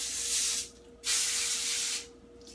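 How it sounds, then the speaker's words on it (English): Two long hissing bursts of coconut oil cooking spray onto tinfoil, each about a second, close up, with a short quiet gap between them. "I will spray the tinfoil with coconut oil"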